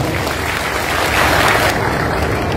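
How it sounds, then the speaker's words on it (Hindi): Dense audience applause at a devotional satsang gathering, a steady wash of many hands clapping at close range that holds evenly throughout. "एक बार इन दोनों के लिए भव्य तालियां हो जाए।"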